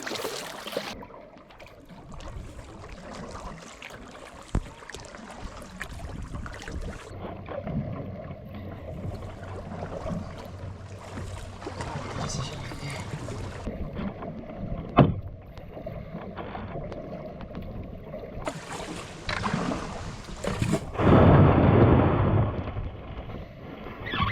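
A solo canoe is paddled on an Algonquin lake in wind, with soft rhythmic paddle splashes and water swishes over steady wind buffeting on the microphone and a louder gust near the end; no voices.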